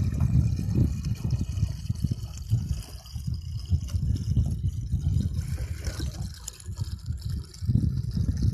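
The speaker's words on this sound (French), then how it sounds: "plus on laisse ouvert comme ça, plus ça coule vers le bas" Water trickles from a homemade irrigation container filled with water, a low continuous liquid flow with small drips and burbles, close and steady without speech.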